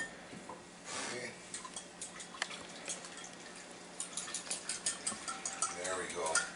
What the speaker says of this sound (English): A lot easier to mix a liquid without spilling it everywhere with a fork.